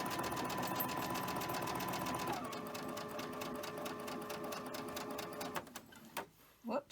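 A sewing machine stitches soft cotton fabric up close in a fast, steady mechanical rattle that changes pace partway through, then stops as a voice briefly speaks.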